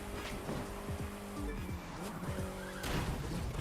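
A Saleen car sliding through the turns in The Crew 2 video game, with low engine tones rising and falling and repeated tire skids and squeals, fairly quiet and without talk.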